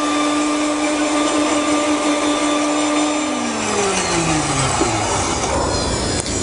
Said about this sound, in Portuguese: Eu faço no liquidificador para misturar melhor os ingredientes.